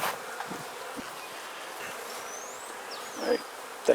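Honeybees buzz steadily in a dense, continuous drone while a beehive is opened and its frames are inspected, with a few soft handling knocks and no voices.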